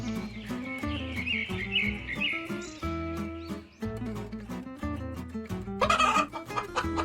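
Cartoon chickens cluck and squawk in a farmyard scene, with a brief crow-like call. The animated fowl sounds come in short bursts over soft tonal backing music.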